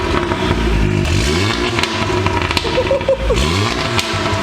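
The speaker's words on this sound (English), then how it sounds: "We're gonna let it warm up and then we're gonna give it a few revs." An Audi S3 sedan with a 2.0-litre EA888 engine and a Stone Valvetronic catback exhaust, valves open, is revved repeatedly nearby, the engine note rising and falling in loud pulses over a low rumble.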